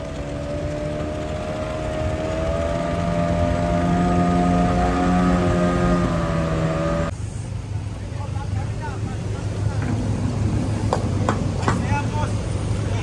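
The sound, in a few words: boat engine warming up on Marikina River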